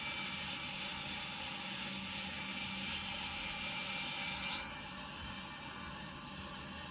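Steady jet engine roar of an Airbus A330 in a flight video game, a broad continuous hum that holds level for several seconds before easing slightly, heard alone with no voices.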